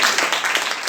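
A church congregation breaking into brief, dense applause, many hands clapping together close and loud for about a second.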